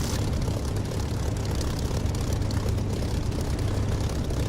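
Dense, steady roar of a Spitfire's propeller engine during takeoff in the DCS flight simulator, a loud unbroken drone with no voices.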